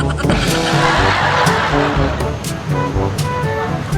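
A modified car engine roars loudly and steadily at a motor show competition at Saphan Hin in Phuket, with dense crowd and traffic noise and a few short horn-like toots over the four seconds.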